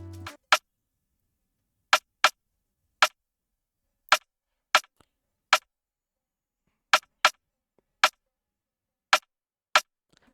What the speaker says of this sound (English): I have my snare drum.